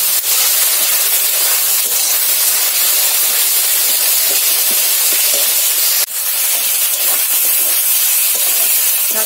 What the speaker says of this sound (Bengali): শাকটাকে এভাবে নাড়ছি শুধু।